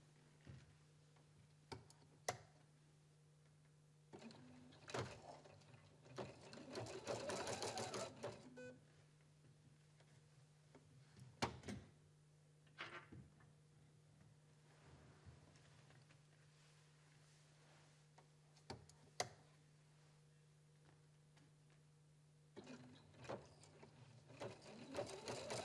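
A Husqvarna Viking Platinum Plus sewing machine stitches embroidery in short bursts of quiet mechanical whirring and ticking, separated by pauses, faint and steady over a low hum.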